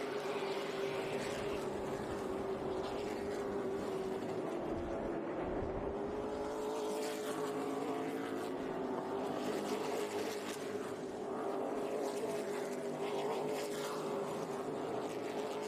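Stock cars racing at Hickory Speedway: a steady, fairly distant engine drone from a pack of cars holds throughout, with faint shifts as cars pass, and no talk over it.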